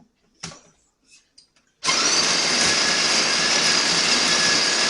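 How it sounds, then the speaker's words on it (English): A De'Longhi La Specialista espresso machine grinds fresh coffee beans with a loud, steady whirring roar that starts abruptly after a few soft clicks and runs on continuously up close. "I will grind up some beans."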